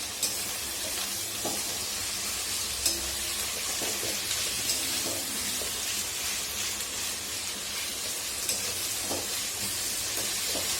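Masala with tomatoes fries in a pan for prawn malai curry, a steady close hiss and sizzle throughout, with faint stirring scrapes and no talk.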